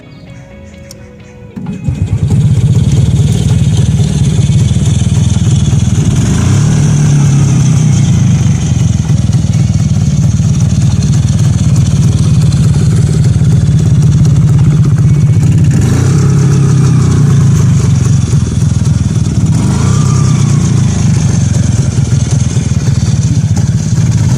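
A CZ 501 Cezeta, a long Czech scooter, starts and runs loud and close, its engine droning steadily with a few revving swells over roughly twenty seconds.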